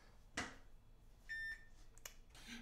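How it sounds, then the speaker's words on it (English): A kitchen oven timer gives a single thin, steady electronic beep, faint and fairly close, between quiet handling knocks while brownies bake. "Beep!"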